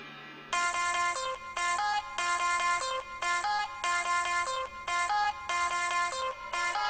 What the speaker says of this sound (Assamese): এওঁ ফোন কৰিছে বোধ হয়